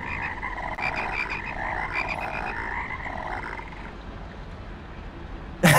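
Frogs croak in the video game Rain World, a loud repeated warbling chorus of croaks over a dense noisy background, fading out near the end before a sharp burst.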